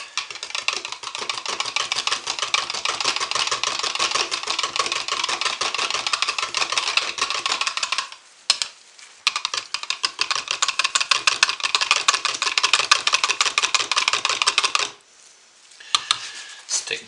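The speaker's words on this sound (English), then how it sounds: "I'm going to whisk them for a little bit." Soap colorants being whisked in a container: a fast, steady, close-up rattle of rapid metallic taps, pausing briefly twice before resuming.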